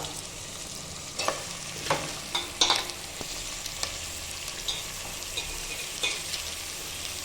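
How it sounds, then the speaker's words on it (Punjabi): Sliced onions frying in a pan as they are stirred once or twice for a bottle gourd sabzi, bringing a soft steady sizzle and a few clacking spatula scrapes near the pan, no voices. "ਸਾਰੇ ਪਿਆਜ਼ ਪਾਤੇ ਆਪਾਂ ਨੇ ਠੀਕ ਹੈ ਜੀ ਔਰ ਬਸ ਇਹਨੂੰ ਹੁਣ ਆਪਾਂ ਦੋ ਇੱਕ ਦੋ ਗੇੜਾ ਦੇਣਾ"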